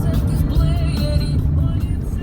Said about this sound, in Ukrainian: Машин, капець, дорога вузенька.